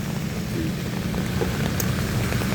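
Steady rain falling in Davao City, a continuous dense hiss and patter with a low background rumble, moderately loud and without speech.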